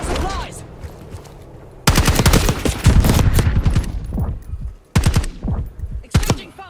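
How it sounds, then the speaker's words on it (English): Intense gunfire exchange in Call of Duty: Black Ops 6, with rapid automatic bursts and single shots cracking close and loud in dense, overlapping volleys, broken by brief pauses between bursts. "Exchanging fire!"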